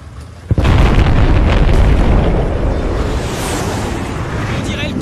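Air strike explosions in the video game Battlefield Bad Company 2 fire a sudden loud boom, then a dense, roaring rumble of blasts and debris that slowly fades, close and overwhelming.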